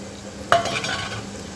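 Potatoes and tomatoes stir-fried in a pan for masala khichdi, one brief scrape of a spoon followed by a soft, steady sizzle.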